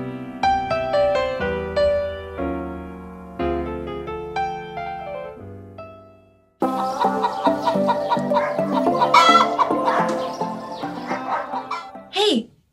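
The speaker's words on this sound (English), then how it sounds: "A bunch of chickens escaped a farm, and they're all over 424." A flock of escaped farm chickens clucks loudly and busily in a dense, overlapping cluster, entering abruptly after a short passage of melodic music in a stage comedy show.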